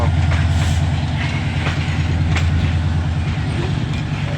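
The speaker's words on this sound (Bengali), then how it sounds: "আন্তনগর মহানগর এক্সপ্রেস লাকসাম জনসন স্টেশন থেকে ছেড়ে গেল" An intercity express train departing Laksam Junction station in Bangladesh rumbles loudly and steadily nearby, a continuous low drone with rhythmic clacking of wheels on track.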